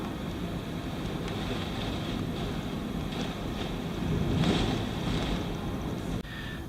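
Strong Hurricane Irma wind in South Florida buffets and rumbles steadily and loudly, swelling briefly near the end, with no voices.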